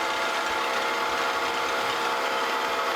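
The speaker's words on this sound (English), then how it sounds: "Center drill, just put a dimple in there." A center drill cuts a dimple into a metal flat belt pulley ready for a set screw, with a steady, even machine whir and cutting noise throughout and no talking.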